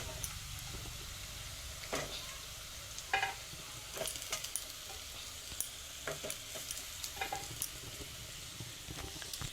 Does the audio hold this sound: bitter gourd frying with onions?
yes